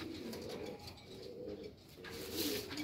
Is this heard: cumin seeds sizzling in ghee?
no